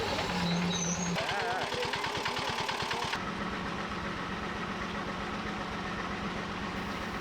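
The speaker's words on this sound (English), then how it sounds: "A motor tricycle is the only means of travel" A motor tricycle engine putters with a rapid, rough knocking rhythm, shifting pitch as it runs steadily and fairly close, in a Sundarbans village.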